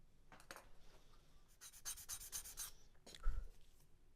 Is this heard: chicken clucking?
no